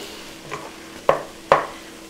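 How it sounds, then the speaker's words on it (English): A utensil breaking up ground beef cooking for goulash in a pot, heard as three sharp knocks against the pot, one soft and two louder, spaced about half a second apart. "So I'm just gonna keep breaking this up"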